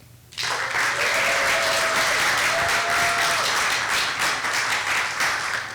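An audience at an employee milestone breakfast bursts into rousing applause, sudden dense clapping that stays loud and even for several seconds, with faint crowd murmur beneath.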